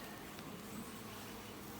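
Honeybees hum faintly and steadily around an open hive during an inspection, a soft continuous buzz at low level with no talking.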